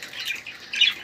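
A young yellow budgerigar chick giving two close, harsh, raspy squawks, the second louder and shriller, with no talking.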